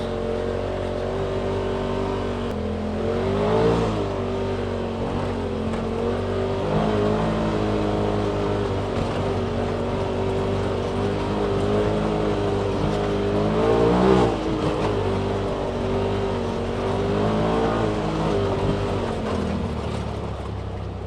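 A Polaris RZR XP Turbo side-by-side drives a mountain dirt trail in Colorado, its turbocharged engine droning loud and steady up close, with throttle swells and revs rising and falling throughout.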